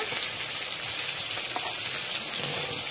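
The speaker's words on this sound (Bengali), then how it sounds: "পটলগুলোকেও আমি লাল লাল করে ভেজে নেব।" Pointed gourd (potol) pieces fry in hot oil, giving a steady, close sizzle with fine crackling. The sound stays even throughout, and no one speaks.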